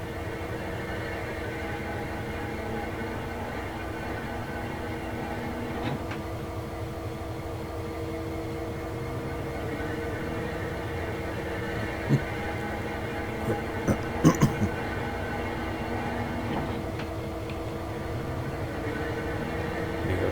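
Railway turntable rotating in Train Sim World 2: a steady low mechanical hum and grinding drone runs throughout, with a few faint clanks and taps toward the end.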